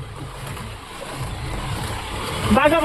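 A motorcycle engine hums steadily nearby while people talk over it, the engine swelling louder near the end.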